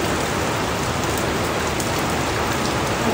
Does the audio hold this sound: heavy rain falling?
yes